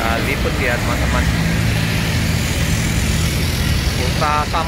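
Steady road traffic rumbles near a busy Palembang bus station, with engines droning and vehicles passing close by, while brief horn blips and scattered voices sit on top of the dense noise.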